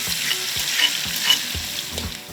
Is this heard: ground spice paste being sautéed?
yes